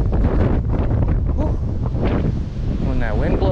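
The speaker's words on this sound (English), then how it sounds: "When that wind blows, it's just like ice rain being thrown at my face." Strong wind buffets the microphone in gusty roars during a cold outdoor walk through Prairie Oaks Metro Park in Ohio, loud and continuous, with faint sounds beneath.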